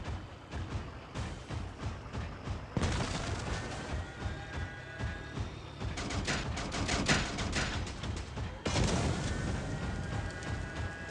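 Two minigun turrets fire from the rear of a tier 1 cabin vehicle in the Crossout mobile game, with dense rapid bursts of gunfire and booming impacts that come in repeated loud waves over steady engine noise.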